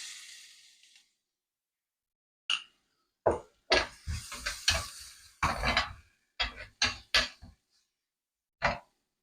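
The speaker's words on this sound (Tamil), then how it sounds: "இனி கொஞ்சம் இஞ்சி பூண்டு பேஸ்டையும் போட்டு வதக்கும்" Ginger garlic paste being sautéed into a chickpea curry gives intermittent scraping stirs and soft sizzling bursts in an irregular rhythm, close and fairly quiet, with brief silences between strokes.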